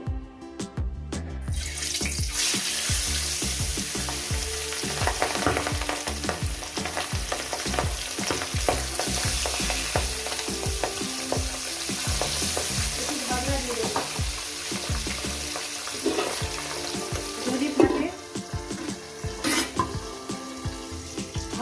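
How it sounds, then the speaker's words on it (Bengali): Pabda fish frying in a pan for a Bengali fish curry, a loud constant sizzle and spatter running throughout with occasional stirring clatter, no talking. "এক এক করে মাছগুলো আমি দিয়ে দেবো"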